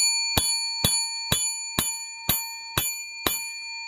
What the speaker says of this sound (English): I haven't rung that bell 10 times in a long time.